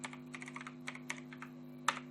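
Keys clack on a computer keyboard at a close, quiet level, with irregular bursts of typing and one sharper final keystroke over a low steady electrical hum.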